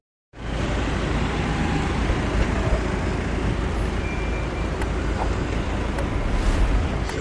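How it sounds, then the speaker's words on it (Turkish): Heavy road traffic in Latvia, heard from inside a moving vehicle as a loud, unbroken roar of tyres and wind that sets in abruptly after a brief silence and holds steady throughout. "Çok fazla trafik var."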